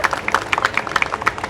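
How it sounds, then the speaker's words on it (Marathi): An audience at a public gathering clapping for the people who helped organise the event, with quick scattered hand claps close together at a moderate volume, without the full roar of massed applause. "ज्यांनी ज्यांनी या कार्यक्रमासाठी सहकार्य केले एकदा त्यांच्यासाठी टाळ्या वाजवा"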